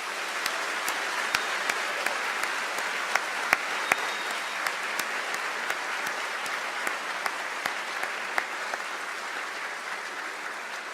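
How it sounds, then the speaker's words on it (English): A crowd at a graduation convocation claps for the graduating students, a steady, moderately distant patter of applause with a few sharper individual claps standing out, holding evenly for about eleven seconds. "Please join me in a round of applause for these students"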